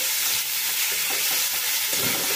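Chopped tomato with green chilli frying on a low flame while being stirred, giving a continuous close sizzle with faint scraping, no voices.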